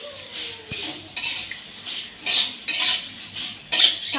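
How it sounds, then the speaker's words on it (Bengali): Puffed rice (muri) is stirred in a pan with oil, a spoon scraping and clinking against the metal in bursts, with the dry grains rustling between strokes. "নেড়ে চেড়ে নেব,"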